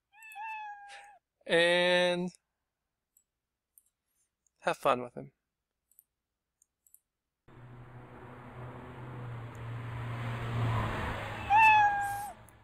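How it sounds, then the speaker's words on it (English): Cartoon cat meow sound effect played back in a Scratch project, a short clear meow alone after brief talk, followed later by a wash of noise with further high squeaks. "I'm going to wait about 4 seconds before I play that meow."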